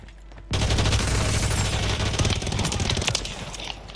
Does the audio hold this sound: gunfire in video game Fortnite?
yes